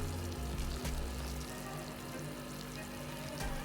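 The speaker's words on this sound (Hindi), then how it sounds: "अब मैं इसमें डाल दूँगी ऑयल।" Two tablespoons of cooking oil poured into a pan of cooked-down yogurt mixture for chicken tikka pizza, a soft, steady sizzle and trickle with a few faint knocks and a low background hum.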